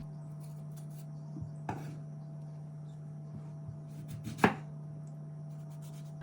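A knife cuts the stem out of a tomato against a board in a few sparse, quiet taps over a steady low hum.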